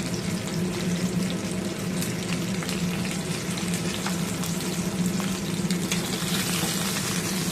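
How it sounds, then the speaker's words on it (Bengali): Turmeric- and salt-coated tilapia pieces fry in oil in a pan, giving a steady, close crackling sizzle with scattered sharp pops throughout, no talking. "মাছ ভাজা শুরু করে দিয়েছি।"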